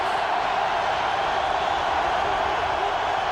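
Stadium crowd at the 1998 Denver versus Pittsburgh AFC Championship football game makes a steady, dense roar that stays at an even level throughout, with no distinct peaks.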